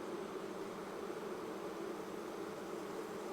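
Honeybees buzzing around an opened beehive during a June hive inspection at Cypress Creek, a dense continuous drone that holds steady close by with no voices.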